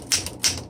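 Two crisp, close keystrokes from a 1929 Royal 10 vintage typewriter with original glass keys ringed in metal, sharp mechanical strikes spaced about a third of a second apart, with no voices.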